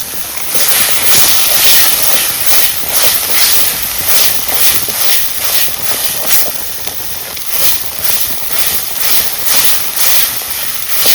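Water hits a pan of frying crab masala made with ground garlic, coriander, onion and coconut in a village kitchen, setting off a loud, continuous hiss that swells in steady pulsing surges, with no talking.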